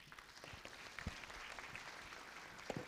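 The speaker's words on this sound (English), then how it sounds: "Please give our panelists a very warm round of applause." Audience applause for the panelists at a conference session of the 2022 Internet Governance Forum, a steady moderate patter of many hands clapping throughout, fairly distant and even in level.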